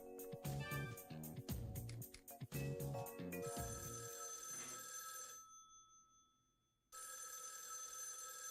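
An old-style telephone bell rings repeatedly in a phone booth in the Ginzucho district of the video game Raidou Remastered, loud bursts in a steady rhythm that give way to sustained tones with a brief silent gap.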